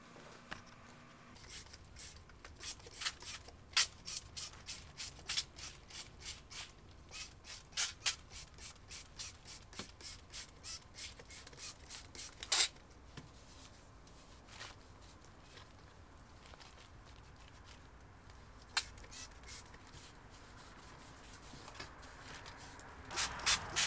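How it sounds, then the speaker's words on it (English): Quick rhythmic spritzes from a trigger sprayer of degreaser repeat in bursts, followed by softer brushing and scrubbing of a Porsche 914 intake manifold and fuel rails, with a couple more sprays near the end. "I'll just spray this all down with degreaser, scrub it a bit with a brush"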